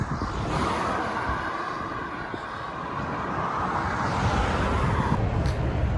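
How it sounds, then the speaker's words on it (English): Heavy road traffic crossing the Humber Bridge, heard from the walkway as a continuous broad roar of passing vehicles that swells slightly toward the end. "as you can hear, there's a lot of traffic"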